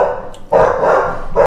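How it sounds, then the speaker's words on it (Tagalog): Dogs in Edmonton, Alberta bark loudly at someone walking by: a sustained bark followed by a shorter one, close and alone with no talking. "na-interrupt tayo ng mga aso, meron tinahulan, meron kasing dumaan no?"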